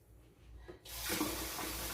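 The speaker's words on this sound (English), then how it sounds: "put some hot water." A kitchen tap starts running hot water, meant to make steam in an oven. A quiet room gives way to a sudden, loud, steady rush of water that keeps flowing.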